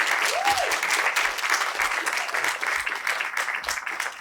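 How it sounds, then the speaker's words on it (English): Applause from an audience at a foundation talk in Oxford, a full sustained round of clapping welcoming a speaker, even and continuous, with a brief whistle-like tone early on. "Let's give Gabriel a huge round of applause."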